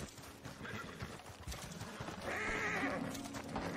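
Horses in the Red Dead Online video game, heard as a whinny and clip-clopping hooves beside a wagon, close and moderately loud over a busy game background with faint talk.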